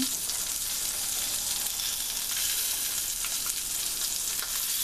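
Salmon fries in browned butter in a pan for salmon pesto fettuccine, a loud, steady, close-up sizzle with a dense crackle that holds evenly throughout, with no talking.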